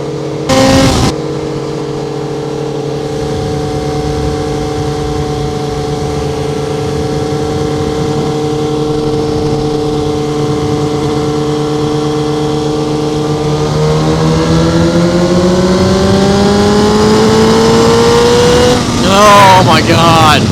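A 2009 Honda Repsol CBR1000RR motorcycle engine revs loud and close, holding a steady high drone before climbing sharply in pitch as it accelerates through the gears, with a brief burst of wind noise at the start.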